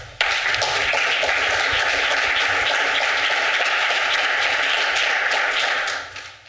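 Conference audience in Brussels applauding after a talk on incentives in life sciences, a dense, steady roar of many hands clapping that runs for several seconds and then fades out.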